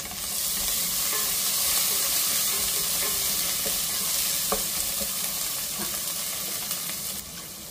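Chopped coriander sizzles loudly in hot tempering oil for ambada bhaji, a steady close crackle with soft stirring clicks running throughout and no voices.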